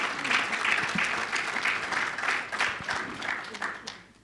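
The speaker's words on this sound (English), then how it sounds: "Let's give our keynote speaker another round of applause." An audience at an annual lecture applauds the keynote speaker with dense, sustained clapping that fills about four seconds, with faint voices underneath, before it tapers off at the end.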